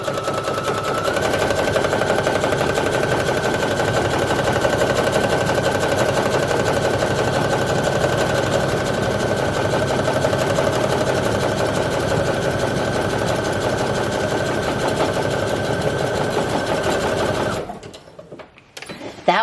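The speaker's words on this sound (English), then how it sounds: "I have got a zigzag stitch on my machine, and I am just going to go across and just close off that." A sewing machine runs a zigzag stitch across a shirt with a steady, continuous mechanical whir and a fast rapid clatter. It holds for about seventeen seconds, then stops abruptly, leaving near silence.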